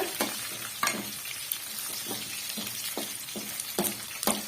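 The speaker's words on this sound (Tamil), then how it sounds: "இப்ப வந்து மீடியமான ஃப்ளேம்ல வச்சு நல்லா வந்து வதக்கி விட்டுக்குங்க" Small onions sautéing in a pan over a medium flame, a steady close sizzle broken by a few sharp scrapes and clatters of stirring, with no voices.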